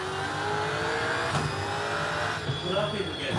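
A GT3 race car leaves pit lane in a racing video game, its engine droning steadily and revving under a continuous mechanical whine.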